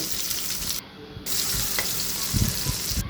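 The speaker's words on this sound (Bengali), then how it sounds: "পেঁয়াজটাকে ভালো করে ভেজে নিচ্ছি।" Onions sizzle steadily in hot oil, a loud continuous frying hiss with occasional stirring scrapes, briefly dipping before resuming.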